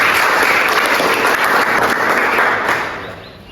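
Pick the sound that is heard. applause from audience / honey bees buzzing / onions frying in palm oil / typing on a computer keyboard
applause from audience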